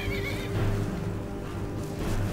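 A horse whinnies with a drawn-out, wavering neigh, moderately loud over a low background hum, in the video game Skyrim.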